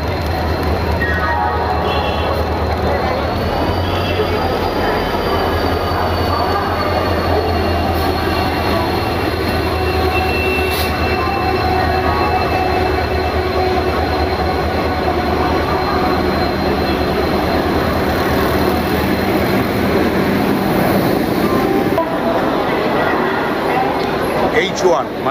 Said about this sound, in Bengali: 12837 যে হাওড়া পুরী সুপারফাস্ট এক্সপ্রেস আছে, সেটি প্ল্যাটফর্মে ঢুকছে